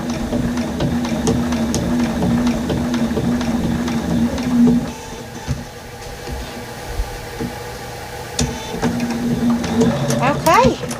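A sewing machine stitches thick fabric layers for a bowl cozy, with a steady mechanical whirring and rapid needle rhythm that runs most of the time, easing briefly in the middle before picking up again at close range.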